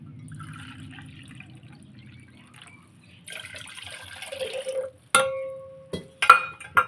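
Water pours briefly from a measuring cup into a gathiya snack dough mixture with a soft splashing trickle, followed by a few sharp clinks of kitchenware in a quiet room.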